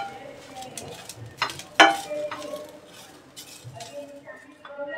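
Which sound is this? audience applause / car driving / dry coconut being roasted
dry coconut being roasted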